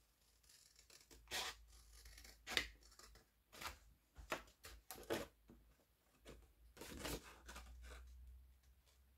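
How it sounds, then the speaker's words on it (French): Scissors snip through the corner squares of a cardboard gift box for jam jars, a series of short crisp cuts and rustles spread irregularly, close up and quiet, with no talking. "Donc les 4 carrés les 4 carrés au coin, bon, on les coupe."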